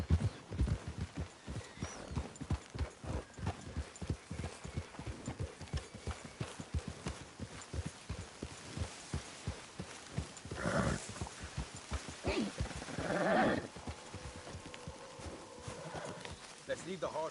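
Horse hooves clip-clop steadily in Red Dead Redemption 2 as riders travel along a road, a continuous rhythmic trotting heard under occasional talk, with a brief whinny near the end.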